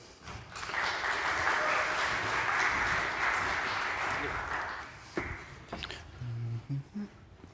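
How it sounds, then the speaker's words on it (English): Applause from a conference audience for a speaker at a decentralised network governance talk, a broad steady wash of clapping that runs about five seconds and then gives way to a few scattered sounds. "Give a round of applause to Raúl"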